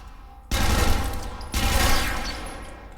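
Two heavy bursts of gunfire from the video game Interstellar Marines, each a loud rattling volley of shots that rings out and slowly decays, close and dominant with no talk.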